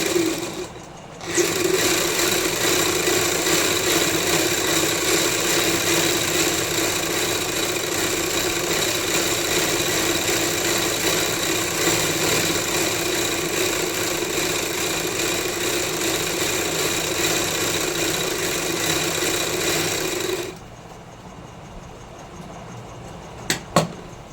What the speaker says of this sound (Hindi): अब हम ऊपर की सिलाई लगाएंगे कली की।